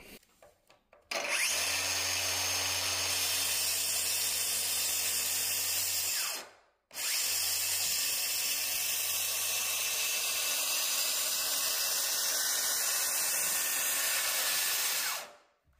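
A circular saw whines loudly and steadily for about five seconds cutting a door threshold, stops briefly, then runs again for a long continuous cut, close by.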